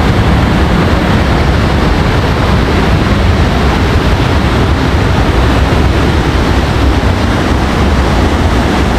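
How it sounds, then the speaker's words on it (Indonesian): Large waterfall at Curug Papat in Rejang, Bengkulu, roaring as a steady, loud broadband rush of falling water close by, unbroken for the whole stretch with no voices. "Wih, itu air terjun besarnya teman-teman."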